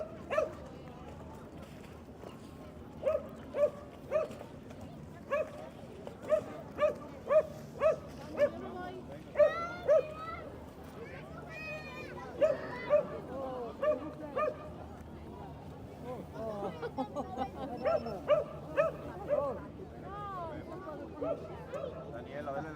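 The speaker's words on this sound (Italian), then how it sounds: "Qui c'è sempre sto cane che abbaia dalle 3:30" A dog barks in regular bursts, a steady string of sharp yips repeating every second or so, amid the crowd murmur of St Mark's Square during Carnival, with people talking nearby over it.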